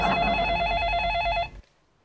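A telephone rings in an office scene of a Hindi TV comedy, a steady electronic tone for about a second and a half that cuts off abruptly into near silence.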